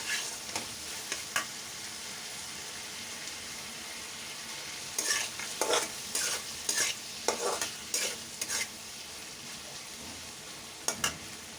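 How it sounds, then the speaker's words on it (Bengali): Shrimp being stir-fried in a pan for a taro-stolon curry with raw mango: a steady close sizzle runs throughout, broken by scattered scraping strokes of the spatula, with no talking. "এখন ভালো করে চিংড়ি মাছটা কষিয়ে নিতে হবে।"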